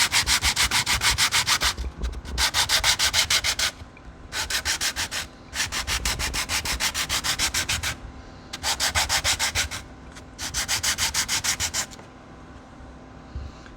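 Hand sanding of western-style knife handle scales and a knife tang, heard as six bursts of rhythmic, scratchy back-and-forth rubbing separated by short pauses, close and clear with no talking.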